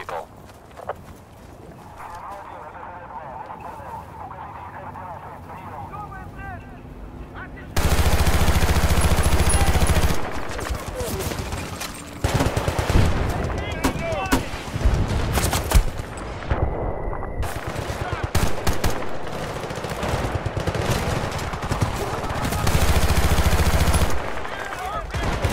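Gunfire in the Battlefield Bad Company 2 video game, with loud bursts and sustained volleys that start partway through and continue over a dense battle din, while radio-style voices talk over the shooting.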